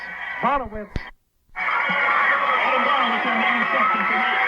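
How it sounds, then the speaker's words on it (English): A basketball crowd at a 1997 high school sectional final erupts after a Knightstown Panthers interception, a loud, sustained roar of cheering that swells after a brief gap, with a commentator's voice heard just before it. "you can hear this crowd going absolutely nuts"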